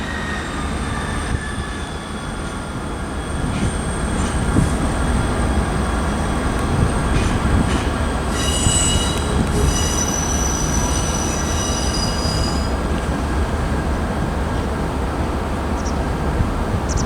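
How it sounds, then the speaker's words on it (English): ScotRail diesel units departing Inverness on an empty stock move, rumbling steadily as the wheels squeal on the curve, with high whining tones over a loud continuous roar. "departing there is 158704 and 158703. That's on an ECS move to Inverness TMD. So there that one curves around."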